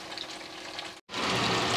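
Chicken wings pan-frying in oil, a dense continuous sizzle close by, briefly cutting out for a moment before resuming louder and brighter, with no talk.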